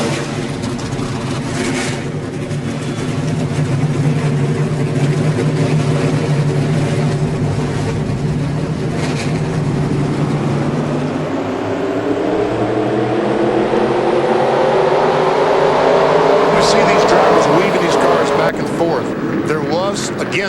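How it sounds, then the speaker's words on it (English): Race car engines in NASCAR Racing 2003 at New Hampshire Motor Speedway fire up and rise in pitch together into a loud, steady drone under continuous commentary. "Drivers, start your engines!"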